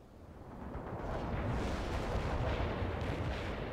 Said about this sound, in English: Incoming fire! We're the best unit lost, sir. They're firing at us.